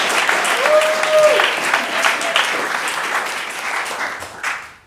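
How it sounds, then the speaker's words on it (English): Steady applause from a theater audience after a performance of short plays, a dense sustained clatter of clapping hands that holds for several seconds before tapering off near the end. "I think we give them another round of applause."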